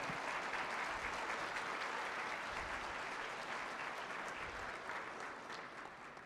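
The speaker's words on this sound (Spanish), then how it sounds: "Un aplauso, por favor, al doctor Javier Rascado." An audience at a panel event applauds a doctor being introduced, steady even clapping from many hands throughout, faintly tapering near the end.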